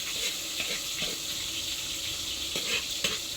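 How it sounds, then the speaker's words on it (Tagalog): A pan sizzles steadily as aromatics are sautéed for spaghetti sauce, with a constant hissing fry and a few soft stirring clicks, close and without talk. "Si Jampol po ay nag-uumpisa na pong maggisa."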